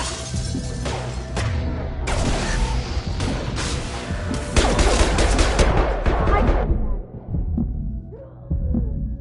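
Heavy gunfire in the Mass Effect 2 video game: dense, overlapping bursts of shots and impacts rolling on for several seconds, then thinning out to a few scattered hits near the end.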